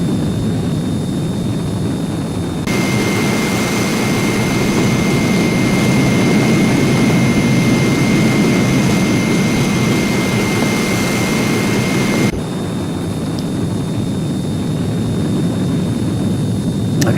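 A Heinkel He 162 jet engine in a flight simulator game roars loudly as power is increased, a sustained whining rush that swells and holds for about ten seconds before dropping back to a lower steady hum.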